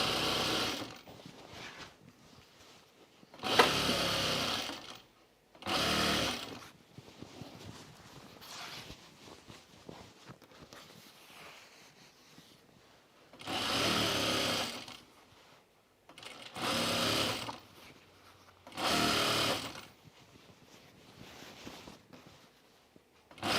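A sewing machine stitches binding onto a cropped jacket in several bursts of fast whirring, each lasting a second or two, with quieter handling noise in the pauses, close to the microphone and with no talking.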